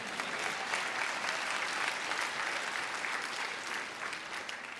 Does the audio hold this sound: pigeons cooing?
no